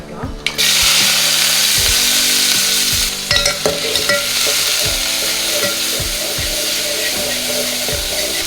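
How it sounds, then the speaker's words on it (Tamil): Mustard seeds spluttering loudly in hot oil for ghee dal, a dense continuous crackle and hiss close up, with sharp popping bursts scattered throughout after a quiet first half-second. "கடுகு பொரியட்டும்"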